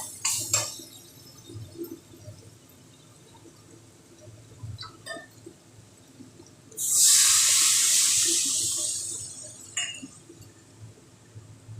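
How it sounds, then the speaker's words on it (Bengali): Water poured from a vessel into a potato curry masala in a home kitchen, a steady splashing pour of a few seconds after light clinks of utensils, close and fairly loud with no talk. "এবার আমি জল দিই"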